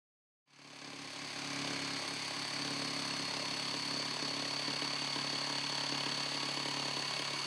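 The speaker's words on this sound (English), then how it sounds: "use a jigsaw or coping saw to cut the curved radius on the right and left" A jigsaw cuts a curved radius into a wooden Murphy bed side rail, starting abruptly and then buzzing steadily and loudly at close range without pause, with no talking.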